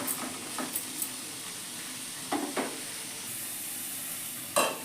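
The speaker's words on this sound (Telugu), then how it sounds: "తర్వాత స్వీట్ కార్న్, కొంచెం లైట్గా ఫ్రై చేసుకుందాం." Sweet corn lightly frying with carrot in a pan of oil while pasta is being made, a soft steady sizzle broken by several brief stirring scrapes and clicks, with no one speaking.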